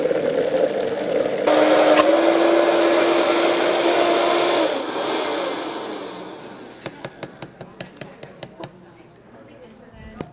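A blender whirs loudly for several seconds as it purees tomatoes with honey, then cuts off, leaving quieter kitchen sounds and a series of light knocks and taps near the end.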